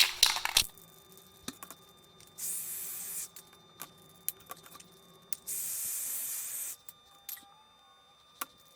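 Aerosol spray paint applied in a second coat to a car steering wheel, sounding as two sustained hissing bursts of about a second and a half each, separated by small clicks and handling knocks.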